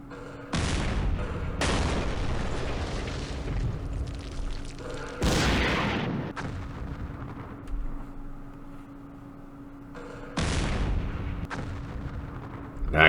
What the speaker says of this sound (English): Now I can shoot at them.